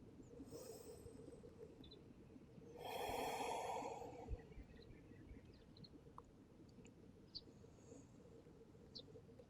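A deep breath is drawn and released once in the middle of a quiet yoga practice focused on core strength. It is close and soft, with faint crickets or insects chirping steadily in the background.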